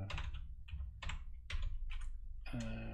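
Typing on a computer keyboard comes in several bursts of clicky keystrokes separated by short pauses, close and fairly quiet, with no voices.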